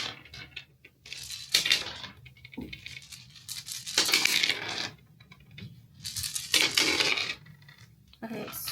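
Dice rattle and clatter as they are rolled onto a board in repeated bursts of sharp, scattered clicks and taps, close and fairly loud, with quiet gaps between throws.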